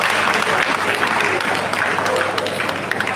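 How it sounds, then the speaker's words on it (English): Guests at a Rotary fundraiser dinner and dance applaud in a steady, dense wash of clapping that fills the hall at constant loudness, with crowd murmur beneath. "Please give yourself a round of applause."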